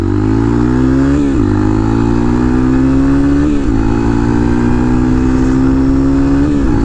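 A Honda XR150L motorcycle with a deep, throaty aftermarket exhaust and end cap accelerates hard and close, its engine pitch climbing and dropping at each gear shift.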